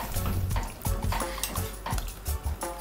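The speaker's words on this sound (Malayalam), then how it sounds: "എന്നിട്ട് നന്നായിട്ട് ഇളക്കി" A spoon scrapes and clinks in a pan while lemon peel pickle cooks with salt, chili powder and turmeric; irregular stirring knocks come close over a soft background hiss.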